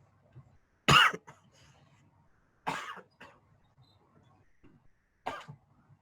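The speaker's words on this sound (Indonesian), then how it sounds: "Lagi batuk." Three sharp coughs ring out close by, spaced a couple of seconds apart, with quiet pauses between them.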